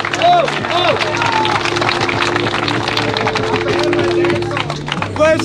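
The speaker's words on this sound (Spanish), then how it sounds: "¡Dale un aplauso!" A crowd at a Spanish-language freestyle rap battle claps and cheers in a lively burst, the dense applause mixed with shouting voices and crowd chatter.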